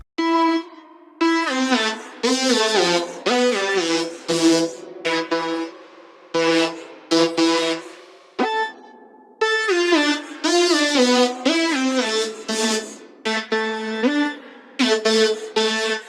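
A Serum synthesizer patch built from saw waves in FL Studio plays a loud, buzzy melodic phrase in short chopped bursts separated by brief gaps, bright and harmonically dense, with nobody talking.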